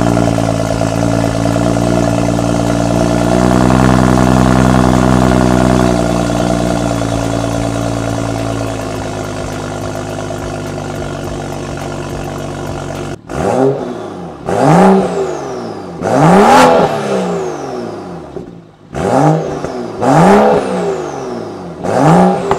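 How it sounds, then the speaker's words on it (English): A car engine fires up from a cold start and settles into a steady idle, then is revved hard in a series of loud, rising and falling bursts. "let me start up this car, a cool start"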